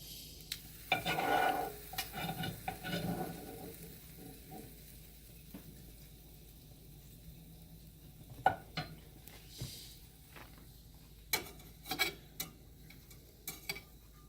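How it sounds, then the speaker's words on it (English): Marinated mushrooms scooped out of a hot pan, with soft scraping and stirring, faint sizzling underneath, and several sharp clicks and knocks of a utensil against the pan. "Scoop the rest of these mushrooms out."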